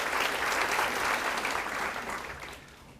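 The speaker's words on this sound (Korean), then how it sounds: "우리 하나님께 감사와 영광의 박수를 드리겠습니다." A church congregation claps together in steady, dense applause, filling the room evenly before tapering off toward the end.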